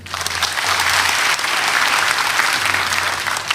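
Audience applause at a comedy roast event, a loud burst of clapping that swells in quickly and holds steady for a few seconds before easing.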